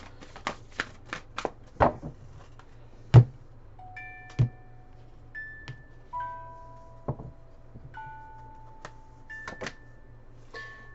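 A deck of oracle cards shuffled by hand, with crisp riffling bursts and soft taps spread across the stretch, close and quiet, mixed with faint tonal chimes in the background.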